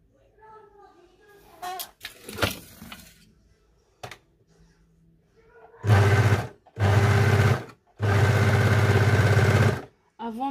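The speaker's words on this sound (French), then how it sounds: "je vais coudre ici avec ma surjeteuse" An overlocker serger stitching fabric, heard as three loud, close bursts of rapid mechanical whirring separated by short pauses, after a stretch of quiet handling noise and talk.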